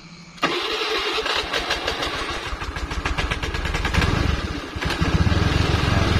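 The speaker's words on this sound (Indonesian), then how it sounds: "Kita akan starter dulu. Setelah kita sambung relaynya tadi, kita jumper, kita akan starter apakah dia sudah bisa hidup." A Honda Vario scooter with a jumpered starter relay cranks briefly and then catches, settling into a steady, close idle that picks up slightly, with no talking.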